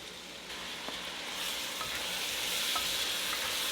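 Tomato tipped into a root vegetable and chicken stew frying over medium heat, giving a steady close sizzle that swells louder and broader after the first second, with a few faint stirring clicks and no voices.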